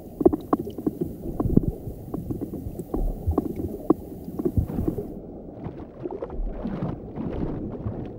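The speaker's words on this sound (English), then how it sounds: "He makes a knocking sound to signal that he's willing to mate." Irregular low knocking pulses from a male bullhead fish calling underwater in a stream, a run of short dull taps, some in quick clusters, close and fairly clear.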